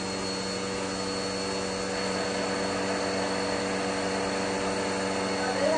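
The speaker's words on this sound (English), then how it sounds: "We gotta vacuum seal the pack." A vacuum machine runs continuously and loudly while sealing a pack, a steady droning whine with a slight rise at the end and no talk.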